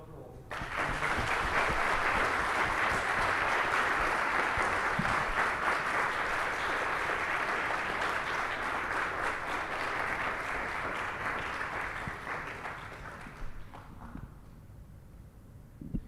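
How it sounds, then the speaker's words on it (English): A school youth TEDx audience breaks into a long, loud round of applause that holds steady for about twelve seconds, then thins out and fades toward the end. "Please give a massive round of applause."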